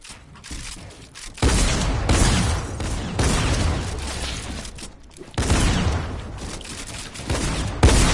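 Gunfire bursts in a tactical shooter match, dense volleys that erupt repeatedly and hold steady for a second or two before dropping back, near and loud, with no voices over them.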